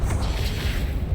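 A Confringo spell blast in the Hogwarts Legacy video game, a loud, dense burst with a deep rumbling low end and a brief swishing edge, filling the whole moment.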